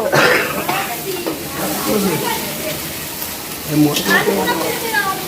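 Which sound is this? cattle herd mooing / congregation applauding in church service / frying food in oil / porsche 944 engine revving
frying food in oil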